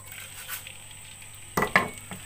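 Hot oil in a frying pan gives a soft sizzle, then sharper crackling bursts and a clink of a utensil or pan near the end, all close and without speech.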